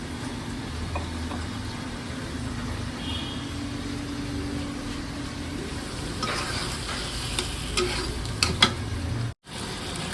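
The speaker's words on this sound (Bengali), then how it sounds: "কচুটা একটু আমি কষাই নেবো" Pieces of taro sauté in a pan, a steady close sizzle with stirring and occasional scraping clatter near the end, followed by a brief drop to near silence.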